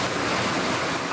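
Floodwater rushing through the streets of Novorossiysk after heavy rain on the Black Sea coast, a dense, loud, continuous wash of surging water.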